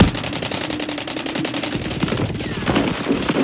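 Rapid automatic fire from an unsuppressed gun in a multiplayer shooter, a loud, evenly spaced rattle of shots running without pause.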